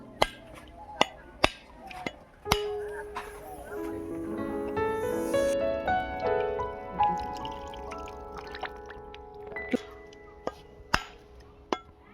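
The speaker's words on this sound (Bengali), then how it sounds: "নারকেলগুলোকে এবারে ফাটিয়ে নেব।" Coconuts are cracked open, with sharp isolated knocks spread across the clip and a stretch of ringing, pouring-like sound in the middle, close and fairly loud.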